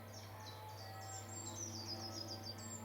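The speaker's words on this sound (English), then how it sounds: "bird song all round." Birds chirp and trill repeatedly over a steady low hum, a mix of bright calls coming from several directions, on a countryside walk along the River Ouse in Cambridgeshire.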